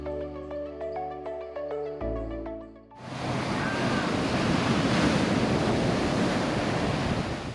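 Loud ocean surf pounding an Oahu beach, a steady rushing roar of breaking waves with wind buffeting the microphone, after a few seconds of music at the start.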